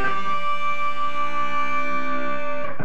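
An electric guitar plays the second half of an A bitonal pendulum lick, clear bright sustained tones holding steadily for nearly three seconds before fading out, close and with no voices.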